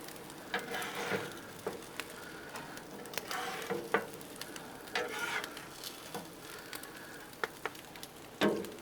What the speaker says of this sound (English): I say let's go ahead and give them a flip and toast the other side.